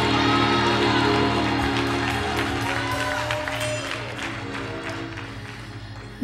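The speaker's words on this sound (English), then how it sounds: "You just clap for your own self." Church audience at a live service clapping: a loud, dense wash of applause with some cheering and crowd noise that gradually thins out toward the end.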